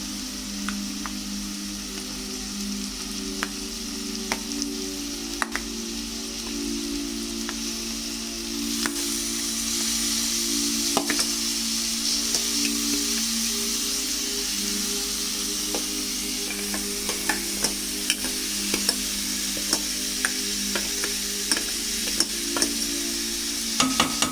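Mixed vegetables sizzle in a pan with golden-brown fried onions for momo filling. A steady, fairly loud frying hiss runs the whole way, broken by the scrape and clatter of stirring.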